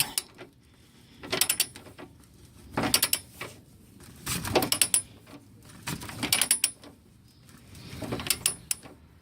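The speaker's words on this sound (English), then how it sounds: "I can just kind of back it out on the socket a little bit here." Ratcheting socket wrench backing out an 11/16 bolt during a trailer hitch install on a 2013-2017 Mitsubishi Mirage, heard as several close bursts of clicking turns separated by short pauses.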